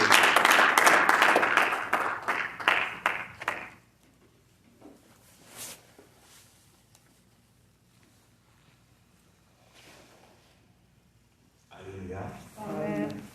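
Congregation applauding and cheering loudly at a church service, dense clapping for the first few seconds that fades into near silence, then a brief burst of voices returning at the end.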